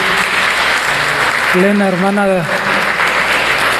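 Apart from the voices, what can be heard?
church congregation applause welcoming a visitor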